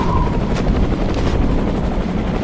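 Rotor blades of a vertibird, an old helicopter in a post-apocalyptic wasteland, thump loud and close in a continuous rhythmic beat.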